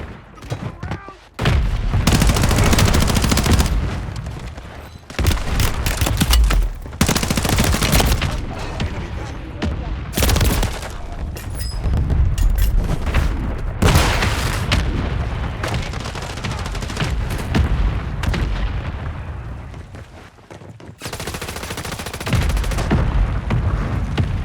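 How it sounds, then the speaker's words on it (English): Loud bursts of automatic gunfire and booming mortar explosions from a Warzone 3 match come in rapid, uneven volleys with short pauses between heavy blasts, close and dense throughout. "Mortar strike inbound."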